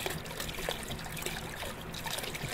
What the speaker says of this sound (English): Then there's water running.